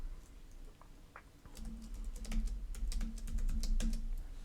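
Rapid clattering keystrokes on a computer keyboard, close and steady, start after a brief pause and continue in irregular bursts while entering a name, email address and password.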